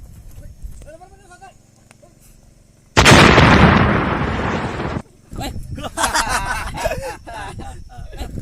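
Gunfire and explosions in a World War II video game: a loud close blast bursts out, then decays over about two seconds, followed by a string of sharp shots and pops while voices talk over it.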